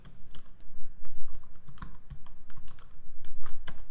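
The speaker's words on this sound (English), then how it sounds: "now we'll type something in the middle" Steady, moderately loud typing on a computer keyboard while entering a hello world program, with rapid irregular keystrokes running throughout and no voices.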